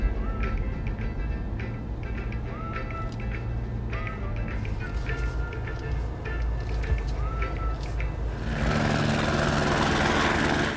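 A helicopter's rotor and engine drone steadily with a faint rhythmic beat, while a few short chirps sound over it before a sharp rise into a broad hiss near the end.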